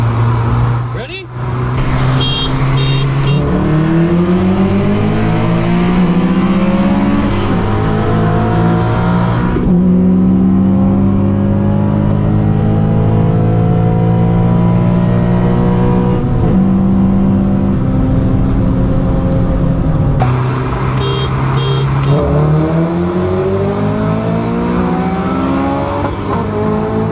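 A tuned Honda Civic Si accelerates hard, engine revving high to around 7,000 rpm with abrupt gear shifts between pulls, loud and close inside the car, with speech heard at times.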